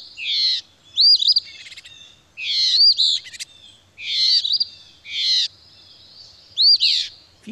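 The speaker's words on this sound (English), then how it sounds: "And the Phoebe is nice because he says his name." Recorded Eastern Phoebe calls: repeated sharp, buzzy two-part chirps, about six in a row at roughly one-second intervals, clear and isolated against a quiet background.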